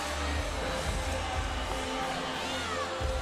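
At the CrossFit Games, athletes who have finished stand on the field cheering for men still dragging a 310-pound sled: a steady, distant crowd roar with scattered shouts, continuous through the moment.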